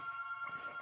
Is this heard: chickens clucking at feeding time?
no